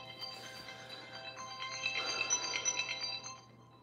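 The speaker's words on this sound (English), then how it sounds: "oh wait, phone call." A phone rings faintly with an incoming call, a thin repeating electronic chime that swells briefly and then fades, heard alone in a quiet room.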